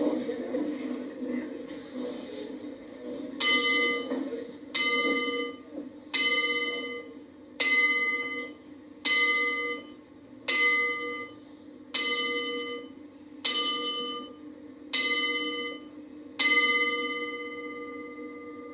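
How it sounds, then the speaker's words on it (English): A bell tolls ten times as a tribute at a boxing event, each strike ringing clearly at an even slow pace over a hushed crowd and a low murmur of background noise. "be upstanding to show our respect for Don with the tolling of"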